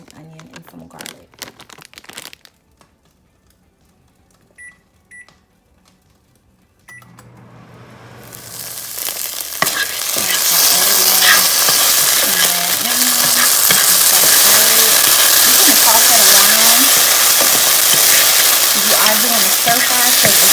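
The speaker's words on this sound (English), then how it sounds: "in the skillet, I've added my oil, and I'm gonna do an onion and some garlic." Onion and garlic hit hot oil in a skillet partway through, bursting into a loud, close, continuous sizzle of stir-frying after a quieter stretch of kitchen handling and crinkling.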